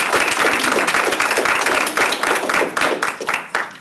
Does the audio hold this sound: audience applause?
yes